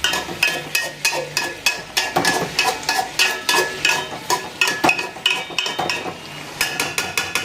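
Meat and tomatoes stirred in a pot, a spoon scraping and clattering in a steady repeated rhythm over a soft background sizzle, close and fairly loud, with no voices.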